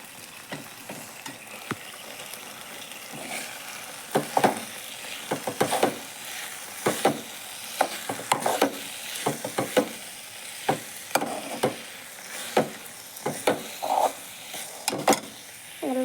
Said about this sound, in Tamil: நல்லா வதக்கி எடுத்துக்கலாம்.